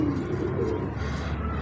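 A pigeon coos softly and steadily, a low throaty burble close by.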